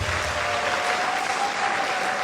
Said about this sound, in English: can you applaud His Excellency?